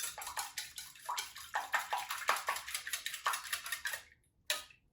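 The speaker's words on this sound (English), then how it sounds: "I'm just whisking in my egg." A whisk beats an egg into pancake mix and milk in a bowl, making quick rhythmic clinks and scrapes against the sides, close and steady before a short pause and one final tap.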